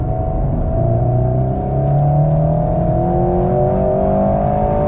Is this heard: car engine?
yes